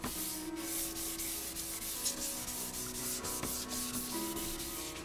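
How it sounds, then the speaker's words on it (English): Sandpaper rubs down a Honda NS250R motorcycle part in steady back-and-forth strokes, a continuous close scraping hiss with a faint hum underneath and no voices. "sand the whole part down"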